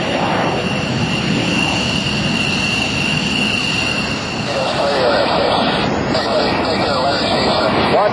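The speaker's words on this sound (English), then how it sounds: "Ed Shipley from Philadelphia, Pennsylvania, in that beautiful F-86 Sabre jet" An F-86 Sabre jet flying at an air show, heard as a loud, steady jet roar that swells toward the end, with voices talking over it.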